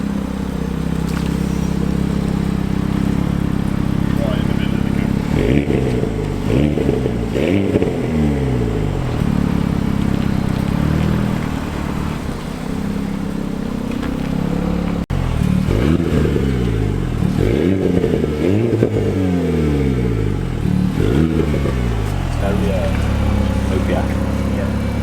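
A green car with gold wheels passes by, its engine building in two loud revving sweeps against steady background noise, with people talking over it.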